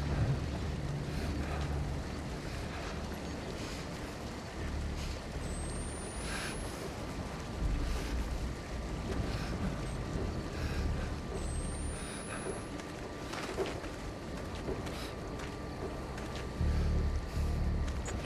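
Steady flowing water in Outlast 2, a continuous broad rushing wash that stays even and fairly loud throughout, with faint faint tonal whines on top.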